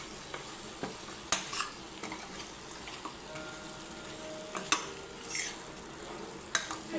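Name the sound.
stirring mutton with spice powders in a pan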